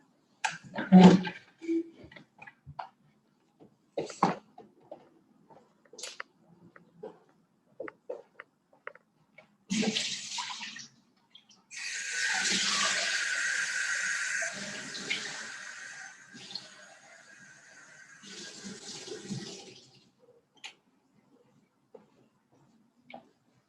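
A watercolor brush being rinsed in a cup of water during a painting class, a few brief splashes and taps followed by a steady swishing and sloshing run of several seconds, fairly close, with no talk over it.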